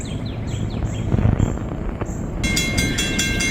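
A northbound freight train roars past close by at speed, a loud continuous rumble with rail clatter, and high warning tones join near the end; birds chirp faintly at the start.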